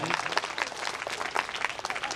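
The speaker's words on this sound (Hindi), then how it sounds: "एक बार फिर से तालियां इनके लिए" Applause from a school audience for a singer who has just performed, a dense, steady patter of many hands clapping at close range, filling the whole moment without a break.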